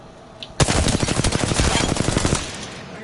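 A fast, loud automatic-weapon burst rattles in the Apex Legends battle royale game. Rapid shots run continuously for almost two seconds after a brief quiet start, with no talking.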